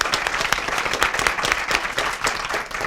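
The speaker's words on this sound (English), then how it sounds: "Round of applause, listening audience right here." A school district spelling bee audience gives a round of applause, a loud, continuous patter of many hands clapping close by, filling the room evenly without pause.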